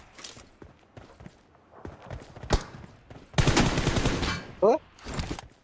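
Gunfire in the mobile battle-royale game BGMI: scattered single shots, then a loud dense burst of rapid automatic fire at close range, followed by a few more sharp reports, with game sounds and brief voices around it.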